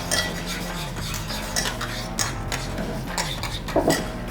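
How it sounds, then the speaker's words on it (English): A utensil stirs seasoning in a cast iron pan on a drum smoker, giving repeated scraping clinks and metallic taps over a low steady hum. "I'm going to stir this up"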